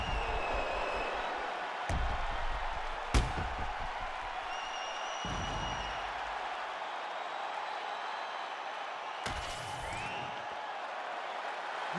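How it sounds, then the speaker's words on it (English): A fight crowd at a WFC 2 main card event cheers and applauds in a continuous distant roar, with a few sharper claps and whistles standing out over the steady noise. "This crowd is going sick after what they saw in that previous round."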